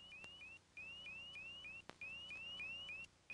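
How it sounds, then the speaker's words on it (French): A faint, repeating electronic cockpit cabin pressure warning tone in short rising chirps, interrupted by a couple of sharp clicks, over a low cabin hum. "On entend toutefois un son révélateur. Un bruit d'avertisseur dans la cabine."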